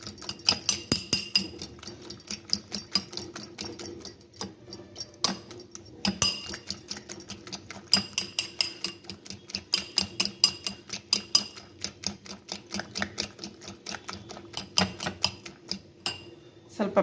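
Egg batter with green chilli and salt is beaten in a bowl, producing rapid, rhythmic clinking and tapping of a utensil against the bowl, close and continuous with brief pauses.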